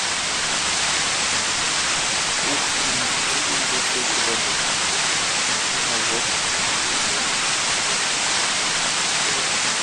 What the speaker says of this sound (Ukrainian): Помиємо свою тачілу.